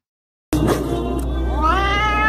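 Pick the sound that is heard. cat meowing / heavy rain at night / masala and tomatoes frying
cat meowing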